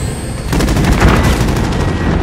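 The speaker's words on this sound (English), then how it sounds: "Grenades flying." Grenades bursting in a Call of Duty: Modern Warfare firefight, a dense, loud volley of sharp blasts and rattling gunfire starting after a quieter moment and continuing steadily to the end.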